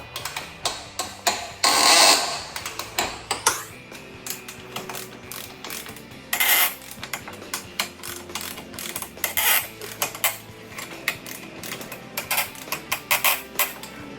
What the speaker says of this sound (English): I have this torque wrench set to 35